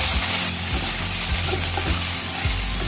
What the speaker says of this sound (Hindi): तेल गर्म होने के बाद इसमें डालेंगे 1 बड़े साइज के प्याज बारीक चॉप किए हुए।